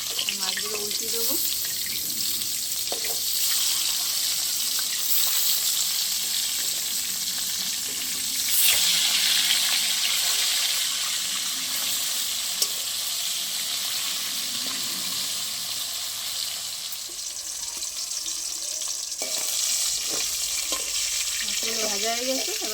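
Hilsa fish pieces frying in oil give a continuous loud sizzle, with scraping and clattering as the pieces are turned and occasional sharp spatters, the crackle easing slightly near the end.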